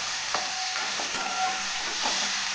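Tindora (ivy gourd) and green chili sambharo frying in a pan, stirred continuously with a steady broad sizzle and a few soft scraping strokes of the spoon, close and alone without any voices.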